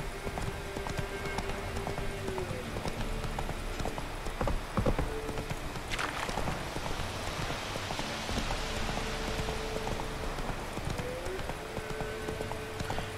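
Horse hooves clip-clop steadily as a rider travels in The Witcher 3, a continuous mid-distance trotting rhythm over a rain-like ambient wash, with occasional in-game effects and no talk.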